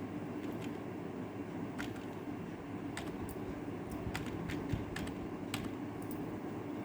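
Computer keyboard keys tapped in irregular bursts while an Excel formula is entered, the clicks fairly close over a steady low background hum.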